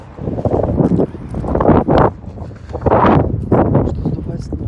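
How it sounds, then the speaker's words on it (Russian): Strong, gusty wind buffets the microphone beside the Dnieper river on a cold day, a loud broadband roar that surges and dips in waves, with people talking underneath. "просто ветер такой сильный"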